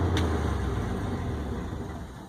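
A 1965 International Loadstar truck engine idles high in a steady, low rumble that fades slightly toward the end, with no voices over it.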